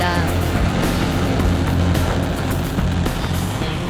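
The Nuri rocket's engines at launch give a loud, steady roar of rumbling engine noise with broadband hiss, continuous and close throughout.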